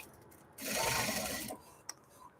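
A sewing machine stitching a large bag runs in a single close, steady whirring burst of about a second, then stops, followed by a small click.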